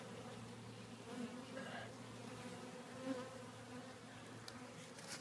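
Honeybees buzz steadily around an old, damaged beehive on a warm day, a dense droning swarm close by with individual bees passing near, continuous with no talking.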